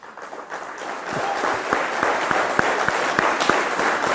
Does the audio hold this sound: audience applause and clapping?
yes